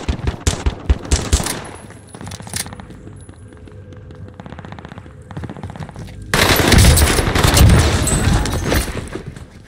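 Rapid machine-gun bursts and single shots fire in a first-person shooter match on the Fortunes Keep map, loud and close at the start, thinning to scattered distant pops, then swelling into a dense, roaring exchange of fire near the end.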